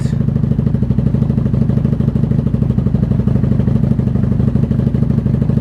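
A 1994 Honda Magna 750 VF750C motorcycle engine idles close by, a loud, steady, throbbing low rumble with a fast even pulse, no voices over it.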